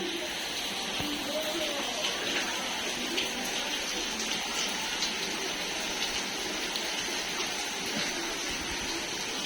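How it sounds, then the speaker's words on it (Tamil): Wind and rain sweep through Chennai on an afternoon, a dense continuous hiss of falling water and gusting air with faint voices underneath. "காத்து மழை"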